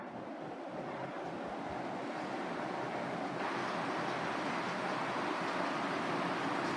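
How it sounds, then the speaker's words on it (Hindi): An electric fan runs in an indoor room that is being aired and dried after cleaning, giving a steady, fairly quiet whooshing rush of air with no voices over it. "थोड़ी देर पंखा चला दूँ जो हवा लगे और कमरा थोड़ा सूख जाए"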